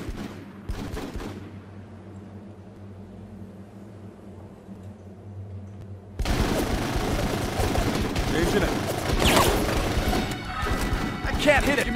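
Gunfire from the 2004 squad-based shooter video game Full Spectrum Warrior: after about six seconds of quiet low hum, loud bursts of rifle and machine-gun fire break out and continue in dense volleys with sharp cracks.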